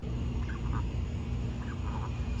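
Canada geese honking from a played video clip, a few nasal calls in loose succession heard over a loud, steady background hum.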